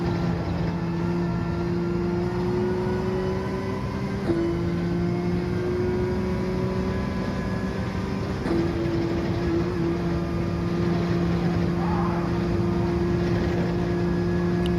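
Gr.3 race cars, including a Porsche 911 and a BMW, lapping Kyoto Yamagiwa in Gran Turismo 7: a steady, loud engine drone with sustained revving pitch and brief gear-shift breaks, no talking.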